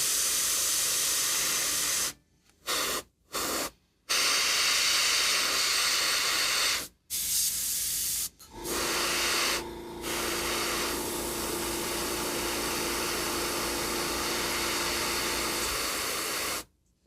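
An airbrush spraying contrast paint onto a Black Knight miniature near its sword arm: a loud, sustained hiss broken by several short pauses, one longer burst stretching across most of the clip.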